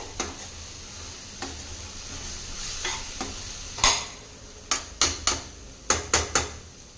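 Cooked masala, with the oil separating out, is stirred in a pan for a cowpea gravy: a low background sizzle broken by a series of sharp metallic spoon clanks and scrapes, clustered toward the end.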